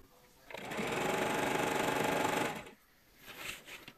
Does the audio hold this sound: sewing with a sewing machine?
yes